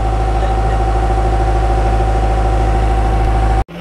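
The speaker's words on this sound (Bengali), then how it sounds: "ও কথা বলে ইঞ্জিনের আওয়াজই আসে।" A vehicle engine idles nearby on the way to Neermahal in Tripura, giving a loud, steady low drone with constant hum and vibration that cuts off abruptly near the end, with no talk.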